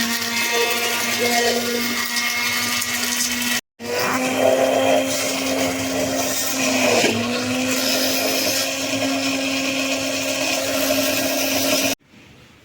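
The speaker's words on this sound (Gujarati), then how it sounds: "આપણે છે એ બ્લેન્ડરમાં કરશું" A loud electric blender blending jamun fruit juice whirs steadily and close, stopping briefly, then running on with a shifting pitch before cutting off abruptly near the end.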